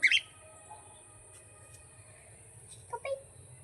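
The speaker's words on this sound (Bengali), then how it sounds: "দেখো কি সুন্দর কাকাতুয়া পাখি" Cockatoo calling with a few short shrill chirps, loudest at the start and again near the end, over quiet background with faint voices.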